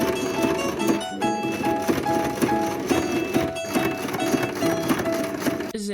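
A sewing machine stitches fabric with a steady, rapid mechanical whirring and needle tapping that runs almost without a break, close and fairly loud, stopping near the end.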